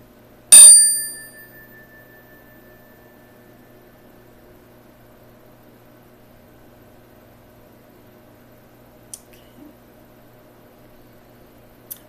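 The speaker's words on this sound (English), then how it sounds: "Ring the bell a few more times." A single bright bell strike rings out loudly and fades away over a few seconds, followed by near silence with a couple of faint clicks.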